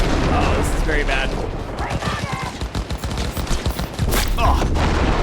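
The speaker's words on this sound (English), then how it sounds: "Where am I getting shot from?" Rapid bursts of gunfire from enemy snipers in Cyberpunk 2077, loud and repeated shots cracking over a busy combat scene while a voice speaks underneath.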